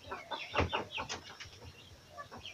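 Native chickens cluck in a rural Philippine yard, several close, busy bursts of clucking and squawking in quick succession with no talk.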